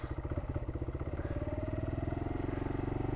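A motorcycle engine idling a little high, a loud, close, steady throbbing beat of rapid exhaust pulses that firms up slightly partway through, with no voices.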